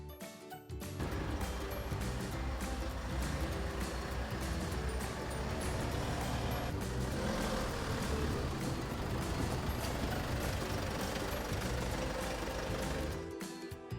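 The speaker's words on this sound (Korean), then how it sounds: "말씀드리는 순간 기상관측 차량이 출동하려나 봐요." A weather observation vehicle at a regional meteorological office sets off, its engine running steadily with a broad rumbling road and motor noise that stays loud and constant for most of the stretch, no talking.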